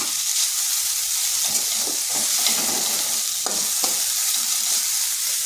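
Potatoes are stir-fried in a pan: a constant close hiss of frying with a few soft scraping strokes of a spatula breaking through.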